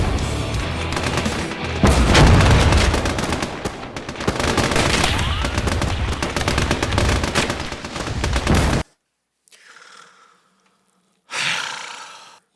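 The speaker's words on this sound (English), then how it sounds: "Getting shot at by that artillery gun." An Army Men war video game fills with dense bursts of artillery and gunfire, loud and continuous for several seconds, then drops to near silence with two brief fainter bursts.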